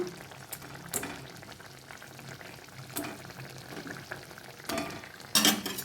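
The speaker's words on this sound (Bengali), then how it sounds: "মাছগুলো একটু ফুটিয়ে নেব একটু ফুটিয়ে নেবো মাছগুলো" Fish simmering in water with hog plums in a pot, a steady bubbling and sizzling with occasional louder clinks and stirs, close and alone with no talk.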